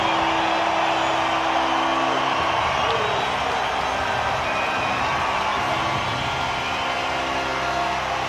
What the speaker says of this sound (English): the two teams now to emerge from the tunnel, and they'll be greeted by an enthusiastic crowd here in Wellington